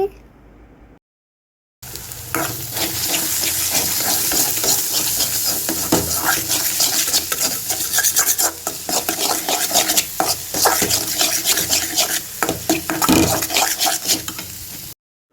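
Egg fry cooking in a pan on a medium stove flame is stirred vigorously, with rhythmic metal scraping and clatter over a constant sizzle after a brief quiet start.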